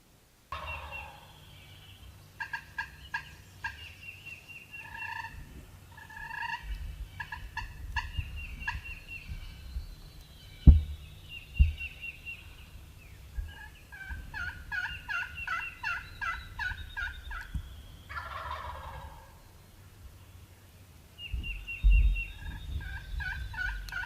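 Wild turkey gobbler gobbling repeatedly in a big open field, rolling gobbles ringing out clearly at moderate distance, several in a row with faint breezy background noise.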